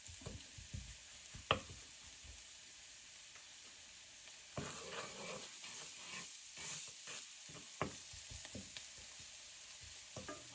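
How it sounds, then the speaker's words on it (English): Garlic browns in a pan for vegetable tofu lumpia, a faint, steady sizzle with frequent scraping and stirring clicks, livelier in the middle stretch and with a few sharper knocks. "Let's brown the garlic."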